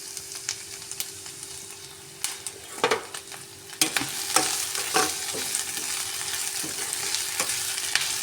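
Onions frying in a hot pan for a tomato side dish with poori, a steady crackling sizzle broken by repeated scraping stirs and clacks, close and fairly loud with no talking.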